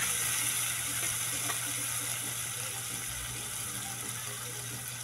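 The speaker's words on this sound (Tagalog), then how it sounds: "Gigisa lang natin" Onions and mung beans sauté in a home pan, producing a faint, steady sizzle with scattered small crackles and pops throughout, heard alone without talk.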